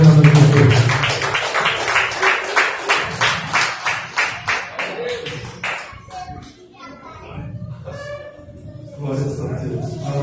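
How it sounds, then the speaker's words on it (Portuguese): Church congregation clapping along for the instrumentalists, a steady run of sharp, rhythmic handclaps close by with voices mixed in, fading out partway as talking and singing carry on. "Recebam eles com as palmas bem alegres ao nome de Jesus"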